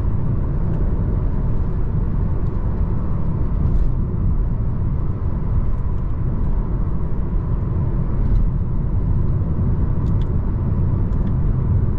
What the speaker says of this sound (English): Hear the engine roar at me.